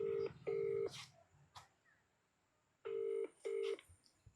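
An outgoing phone call rings out as a close, steady electronic ringback: two short buzzing tones, a pause, then two more, with no one speaking.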